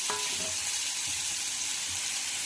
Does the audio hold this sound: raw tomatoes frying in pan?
yes